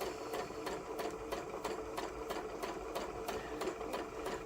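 A sewing machine stitches quilt pieces in a fast, even run of mechanical clatter, with each needle stroke repeating at a steady pace, close and continuous, without any talking.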